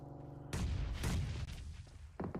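Grenade explosions in PUBG Mobile, two heavy booming blasts in quick succession followed by rumbling after-blasts and a softer thud, loud and close.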